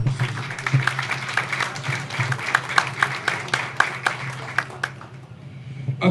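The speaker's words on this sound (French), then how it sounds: "applaudissez." Applause from an audience at a NATCOM company ceremony paying tribute to its director general in Haiti, a steady patter of many hands with scattered sharper claps, moderately loud and fading toward the end.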